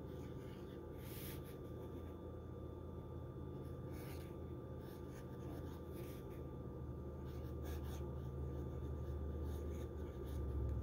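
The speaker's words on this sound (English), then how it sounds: "There's just little to no pressure required to write with this pen." An Ensso Italia fountain pen writes on paper with soft scratchy strokes. The strokes are low-pressure and continuous, quiet and close, over a steady background hum.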